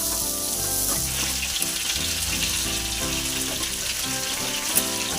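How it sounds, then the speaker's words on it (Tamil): Garlic and onion fry in a pan for a fish curry, a loud, steady sizzle close by, with music playing underneath. "பூண்டு வெங்காயம்லாம் நல்லா வதங்கணும்."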